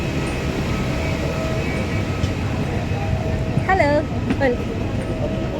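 Train running at Bangalore airport, a steady low rumble throughout with a brief squeal near the end and a voice speaking over it.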